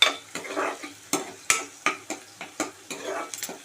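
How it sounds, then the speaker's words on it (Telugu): Onions fry in a pan for a gokarakaya paste recipe, with a soft sizzle under repeated sharp scrapes and taps of a spoon stirring them. The stirring comes in quick, uneven strokes, close up, with no speech. "ఇలా మగ్గాలి, బ్రౌనిష్ రావాలి ఆనియన్స్."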